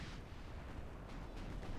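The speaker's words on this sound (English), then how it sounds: "That was an interesting explosion of ammo on the Georgia." An ammunition explosion aboard the battleship Georgia in the naval game Ultimate Admiral: Dreadnoughts. It is a dense, rumbling roar that stays steady and muffled at low volume for nearly two seconds, with no voices.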